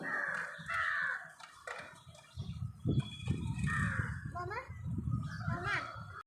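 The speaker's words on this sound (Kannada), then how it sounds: "ಯಾಕೆ ಏನು ಸೌಂಡ್ ಹಿಂಗೆ ಮಾಡ್ತಿದೆ ಅಂತ ಎದ್ದು ನೋಡ್ತೀನಿ ಕಾಗೆಗಳು" Crows caw repeatedly in the background while children's voices chatter nearby, the calls harsh and intermittent over the talk.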